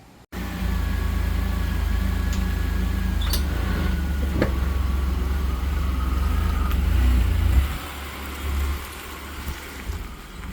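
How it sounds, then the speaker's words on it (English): A 2003 Ford Escape with new front tires rumbles along on a test drive, a steady low engine and road drone heard from inside, with small knocks and rattles and the noise easing toward the end. "we're going to go for a quick test drive now"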